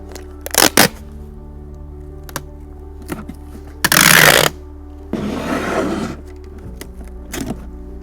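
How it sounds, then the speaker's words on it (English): Packing tape comes off the roll onto a cardboard moving box in two loud rasping pulls, one short and harsh, the next longer and softer, between scattered sharp taps and handling clicks. "The second piece of tape will overlap half of the first piece."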